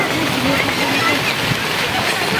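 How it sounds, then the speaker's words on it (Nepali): Heavy rain with hail pours down steadily outdoors in Butwal, a dense continuous hiss and patter filling the scene, with voices faintly underneath. "पानी पर्यो असिना झर्यो"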